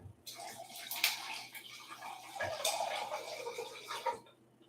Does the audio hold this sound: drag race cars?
no